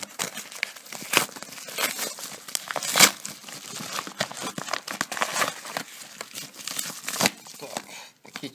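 Plastic parcel bag crinkling and rustling as a package from China is unpacked, close and fairly loud, with repeated sharp crackles and tearing-like bursts throughout.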